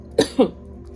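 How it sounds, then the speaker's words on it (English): Two short, sharp throat-clearing bursts, close and abrupt, in quick succession. "I might still be clearing my throat though, so I apologize about that ahead of time"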